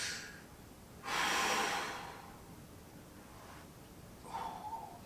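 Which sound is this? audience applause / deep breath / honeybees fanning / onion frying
deep breath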